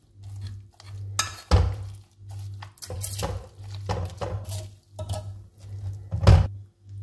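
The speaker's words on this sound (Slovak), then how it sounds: "rozpučíme vidličkou" Cooked spaghetti sauce mixture of Balkan cheese, baby spinach and tomatoes being mashed with a fork in a pot, with repeated metallic clinks and scrapes against the pan over a steady low hum, no talking.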